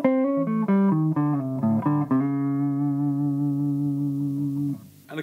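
A Hagstrom Swede Gold Top electric guitar in clean tone plays a quick run of single notes, then lets one sustained note ring for several seconds before it fades out.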